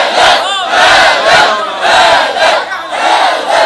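Massed voices of a devotional assembly chant a slogan together in loud, rising and falling waves, several repeated bursts in quick succession filling the space.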